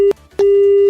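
A telephone tone sounds after a call is hung up: a short steady beep, a brief gap, then a second, longer steady beep, clear and close with no voices.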